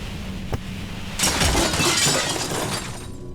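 Compressor lights shatter in the detective role-playing game Disco Elysium, a loud burst of breaking glass that rises suddenly and crackles on for about two seconds before cutting off.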